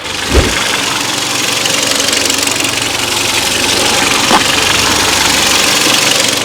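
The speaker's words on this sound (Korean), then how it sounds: "차량 이제 엔진 시동 걸어놨으니까 엔진 소리까지 한번 들려드리도록 하겠습니다" A Hyundai YF Sonata engine idles with a steady, low rumbling drone, close and loud, with a couple of brief knocks or thumps along the way.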